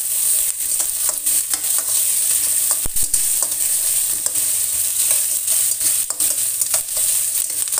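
Carrots and other vegetables for macaroni are stir-fried in a pan, giving a loud, bright, steady sizzle punctuated by regular scraping and knocking of a spatula against the pan, close up and with no voices.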